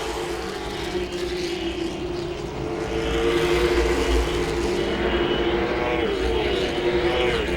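Late model stock cars race at Langley Speedway, a continuous loud engine roar from the pack with rising and falling pitch as cars pass, steady and dense throughout.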